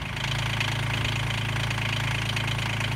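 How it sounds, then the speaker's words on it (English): A Honda Insight converted to diesel power cranks and catches, then settles into a loud, steady idle with a rapid rhythmic clatter and low throbbing drone, heard close up. "let's see if we can get the engine to start"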